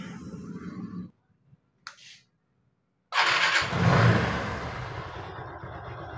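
A Yamaha motorcycle with a new cylinder kit that still emits white smoke cranks and fires: low mechanical churning, a pause with brief clicks, then the engine catches loudly and settles into a steady running rumble.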